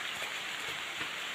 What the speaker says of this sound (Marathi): हो बघा जोरदार पावसाक सुरुवात झाली